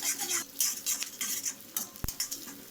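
Onion and capsicum stir-fried in a pan for street-style chicken fried rice: quick rhythmic spatula strokes and metal scraping over a light sizzle, with one sharp knock near the end, close and without voices.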